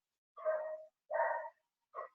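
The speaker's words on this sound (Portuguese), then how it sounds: "é o cachorro de algum vizinho aí que eu não sei qual é" A neighbour's dog barks somewhere outside a closed window, three faint, muffled barks spaced a little apart, distant and soft.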